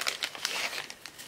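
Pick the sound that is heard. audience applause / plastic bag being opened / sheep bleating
plastic bag being opened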